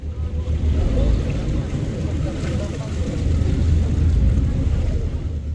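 A tour boat cruises into the Haegeumgang sea cave with a steady, close, low engine rumble. Churning water and a faint breathy wash run over the drone the whole time.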